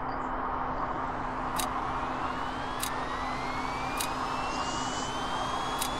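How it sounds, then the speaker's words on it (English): Jet engines spool up in the video game VTOL VR, with a steady whining roar and rising tones climbing slowly in pitch, plus a few short clicks at regular intervals. "we're gonna pop the engines on."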